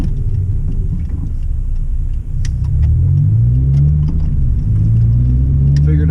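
A car drives along a road on a dreary day, heard from inside the cabin as a steady, close low engine and road rumble that runs unbroken throughout.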